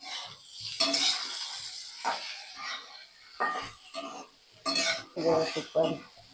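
Okra sautéing in a pan for bhendi bhaji, heard as intermittent bursts of spatula scraping and soft sizzle, fairly quiet and separated by brief pauses.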